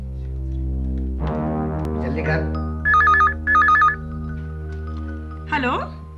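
A telephone rings in two short electronic trilling bursts over a steady low background hum, with some speech-like sounds before and after.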